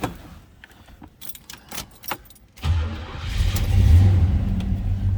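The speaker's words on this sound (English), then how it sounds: "fire up that Pontiac 400" A 1978 Pontiac Trans Am's Pontiac 400 V8 cranks and catches on a cold start after some jangling and clicking inside the car, then settles into a loud, deep, rumbling idle close by.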